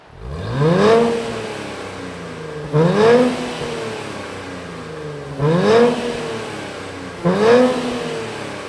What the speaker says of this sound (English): let's fire it up and hear what the Z NISMO sounds like